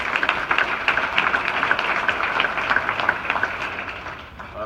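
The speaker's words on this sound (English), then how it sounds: "Another round of applause." A keynote event audience gives a round of applause, a fairly loud, dense patter of clapping that holds steady and then begins to thin toward the end.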